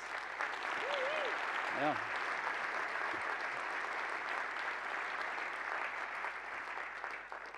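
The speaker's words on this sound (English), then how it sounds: "So big applause, I think, for all of the people that helped with this." Sustained applause from a large conference keynote audience fills the hall steadily and loudly, with a brief spoken interjection over it near the start.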